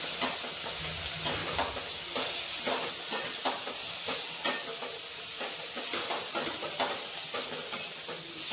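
Shredded cabbage stir-fried with Maggi masala in a hot pan: a continuous close sizzle with regular spatula scrapes and clacks roughly every half second, no voices.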